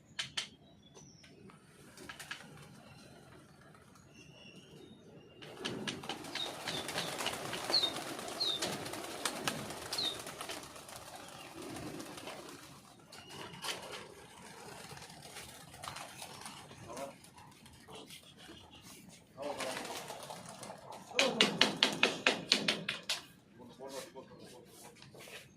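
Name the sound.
pigeons cooing and flapping wings as they're let out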